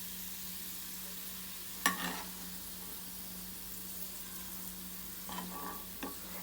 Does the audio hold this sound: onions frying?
yes